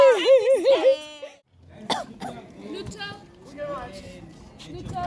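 At a weekend campsite, a person gives a brief harsh cough after a burst of whiny vocal noise, followed by nearby chatter and camp background sounds.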